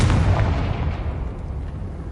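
A Confringo blasting spell detonates in Hogwarts Legacy with a loud booming burst that rolls off into a fading rumble.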